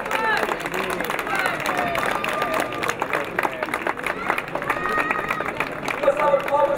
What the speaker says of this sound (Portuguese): uma salva de palmas para o Sr.